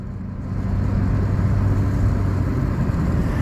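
A car engine runs steadily and fairly close, a low droning rumble that swells slightly as the car pulls through a gear change, with no talking over it.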